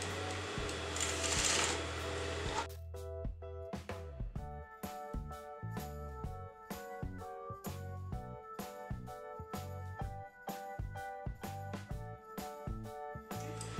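A sewing machine stitching a neckline canvas on a crop top, its needle running in a steady rapid rhythmic chatter, close and clear, after a brief burst of louder noise at the start, with no talk.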